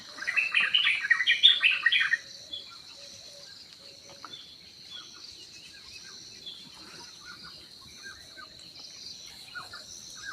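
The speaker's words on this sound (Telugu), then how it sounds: "పక్షుల శబ్దాలు అయితే మాత్రం ఆ కిలకిలలు చాలా బాగా అనిపిస్తూ ఉన్నాయి" A lively burst of birds chirping and tweeting for about two seconds in a forest at night, then a quiet outdoor stillness with faint, scattered calls and a soft insect hum.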